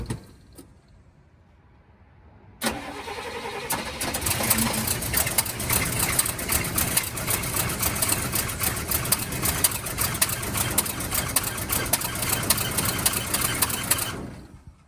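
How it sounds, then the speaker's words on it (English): A 1971 Cadillac Coupe DeVille left abandoned in a backyard for 15 years cranks and fires abruptly after a quiet stretch, then settles into a steady, close, rumbling idle that runs on its own until it cuts off near the end. "the car started and even idle on its own"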